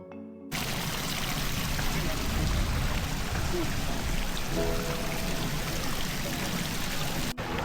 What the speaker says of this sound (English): the sounds of water that flows everywhere in the park